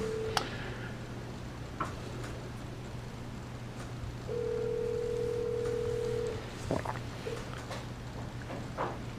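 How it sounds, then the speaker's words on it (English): A cell phone call rings through in a quiet school board meeting room, with one sustained tone lasting about two seconds over a low electrical hum and scattered faint clicks. "Jeremy, I'm gonna call you on this cell phone."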